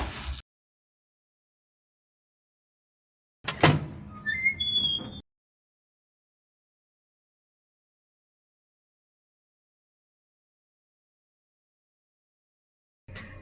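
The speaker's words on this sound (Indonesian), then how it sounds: "Aku bukain pintu dulu deh ya." A door swings open with a single high, wavering squeak of its hinges lasting about a second and a half, alone in a quiet room, with brief clicks before and after.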